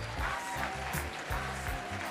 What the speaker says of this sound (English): round of applause for NYDA